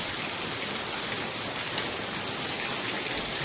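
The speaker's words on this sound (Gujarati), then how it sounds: "બહાર જ વરસાદ છે" Heavy rain pours down outside, a constant even hiss of drops hitting surfaces, steady and moderately loud, with no voices.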